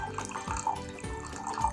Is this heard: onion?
no